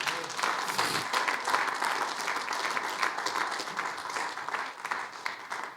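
An audience at a church gathering applauds in a dense, steady wash of clapping that holds for several seconds, close and full, with faint voices underneath.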